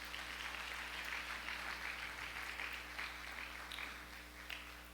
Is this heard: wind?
no